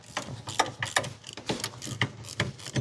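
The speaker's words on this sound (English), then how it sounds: "We're going to remove these two 15mm bolts." A socket wrench ratchets on two 15mm brake assembly bolts of a Polaris Ranger, giving rapid bursts of close metallic clicking with short pauses between strokes, heard alone.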